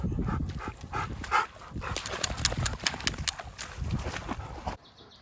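Two dogs, fresh from a swim in a river on a hot summer evening, pant and patter about nearby with quick shuffling, shaking and paw sounds before a sudden quiet.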